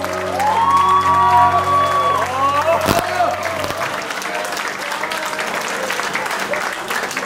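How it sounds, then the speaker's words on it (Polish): Warm applause from wedding guests at a Polish wedding reception, with a live band's sustained music tones ringing over the crowd noise at first, then loud, steady clapping and some cheering that carries on alone. "Gorące brawa dla rodziców państwa młodych!"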